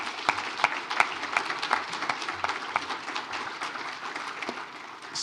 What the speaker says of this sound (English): Maybe let's give a round of applause to everybody for those 2 days.